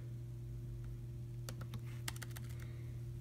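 Computer keyboard typing: a short burst of crisp, quick key clicks after a pause, close and fairly faint over a steady electrical hum, with no talking.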